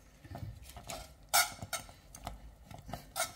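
Thick polenta bubbling in a pot over the lowest heat: irregular soft plops and pops, close by, with a few sharper bursts and no talking.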